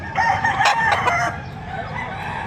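A rooster crows once, loud and fairly close, with a busy outdoor crowd murmuring underneath at a livestock auction market in Padre Garcia, Batangas.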